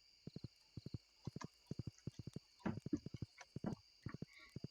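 Steady clip-clop of horse hooves at a walking pace in the video game Stardew Valley, with a brief snort partway through, over a faint high electronic hum.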